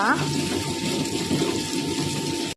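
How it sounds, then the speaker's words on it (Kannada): Water pours into a mixer grinder jar during preparation of a prawn curry masala, a continuous close, gushing splash that runs for a couple of seconds and then stops abruptly. "ಸ್ವಲ್ಪ ನೀರು ಹಾಕುವ."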